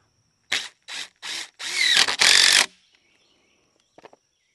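A power drill driving screws into sawmill scrap boards for a tomato trellis: three short whirring bursts, then a longer grinding run as a screw seats, followed by quiet and a faint click.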